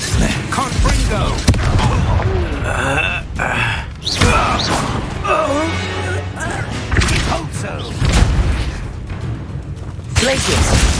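Spell blasts and explosive booms from combat in the video game Hogwarts Legacy, including the Confringo fire spell, bursting repeatedly amid whooshes under a player's shouted spell names and talk.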